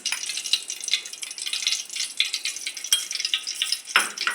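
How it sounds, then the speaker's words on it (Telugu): Vermicelli (semiya) frying in hot ghee in a pan, a continuous crackling sizzle with scraping stirs and a sharp clink near the end. "కొంచెం సేమియా వేపుకోవడానికి మరి కొంచెం 2 స్పూన్లు నెయ్యి వేసుకుంటాను"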